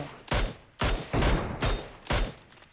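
Gunfire in PUBG Mobile on the Erangel map: five loud, evenly spaced single shots, each with a short decaying tail, and no voices.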